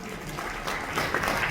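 Audience applause at an annual award function at SUPVA in Rohtak, a steady mid-level wash of clapping that swells a little louder in the second half.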